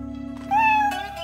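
A cat lets out a clear, close meow, one drawn-out rising and falling call over a steady background hum, with no one speaking.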